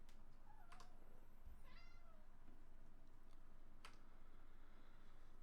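A cat meows in short calls indoors during a card game, faint against steady background hum, with soft clicks around it.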